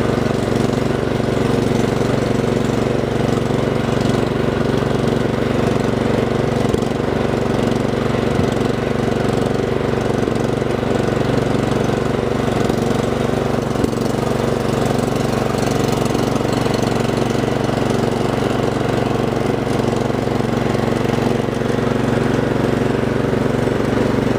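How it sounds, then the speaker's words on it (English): A Craftsman R1000 riding lawn mower drives downhill, its engine droning loud and steady at close range with a constant rough mechanical rumble and no change in pace. "I'm gonna take it down the bottom of the hill down here."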